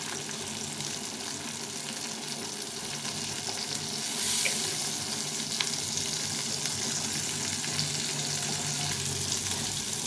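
Rohu fish tail pieces sizzle and crackle steadily in hot oil, a close, continuous frying hiss that swells slightly partway through, with no one talking.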